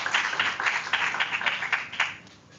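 Audience clapping after an oration in a lecture hall, a steady patter of many hands that stays even for a couple of seconds and then fades off.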